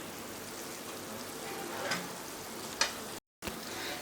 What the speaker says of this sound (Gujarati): અહીંયા તમે જુઓ એકદમ લોટ આપણો શેકાઈ રહ્યો છે, ઘી છૂટું પડી રહ્યું છે